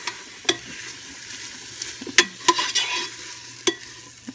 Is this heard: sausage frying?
yes